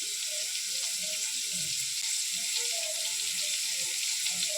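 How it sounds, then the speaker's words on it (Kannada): Onions frying in hot oil in a pan until golden brown, a dense continuous hiss and sizzle that holds steady throughout at close range, with a few faint stirring sounds underneath and no talking. "ನಮ್ಮೊಂದೇನು ಗೋಲ್ಡನ್ ಬ್ರೌನ್ ಕಲರ್ ಬನ್ನಮುಟ ನಮ್ಮ ಲಾಯ್ಕಡೆ ಅವೇನು ಫ್ರೈ ಮಲ್ಪೊಡು."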